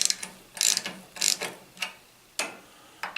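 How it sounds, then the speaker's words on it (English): A socket wrench ratchets in short bursts of rapid clicks with pauses between them, close up, while working on a 1972 Hahn Eclipse snow blower with a Tecumseh H60 engine; no voices. "I need a socket."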